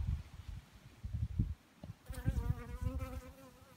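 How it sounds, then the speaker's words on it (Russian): A bee or wasp buzzes close by around a flowering bush outdoors, a steady droning hum that grows stronger in the second half, with no voices. "Он даже на нем пчелка оса"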